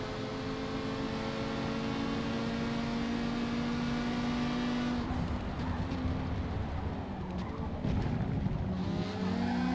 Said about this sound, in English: I hit first gear and it gave me a big slide.